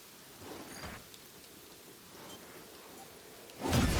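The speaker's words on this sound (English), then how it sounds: "This is why I hate rain." Rain in the video game SYNDUALITY Echo of Ada, a faint steady patter with soft brief gusts that swells into a louder hissing downpour near the end.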